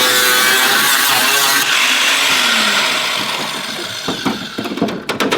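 A power tool cuts a steel trim piece for a ute's interior, a loud, close, high-pitched whine that continues for a few seconds before it spins down into scattered clanks and taps.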